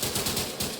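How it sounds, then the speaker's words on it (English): Rapid gunfire at a shooting range in the video game Division 2, a dense run of shots lasting under a second, steady and fairly loud with no talking. "So we're going to shoot."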